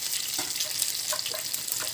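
Pressure-cooked mutton frying in biryani masala in a pot, a close, steady crackling sizzle with small bubbling pops and stirring noises, no talking.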